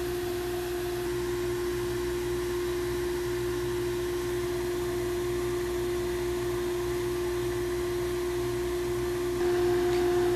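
A sandblaster fires abrasive at a paver brick covered with a 4 mil stencil mask, a continuous loud hiss of air and grit running unbroken throughout, with a steady hum underneath.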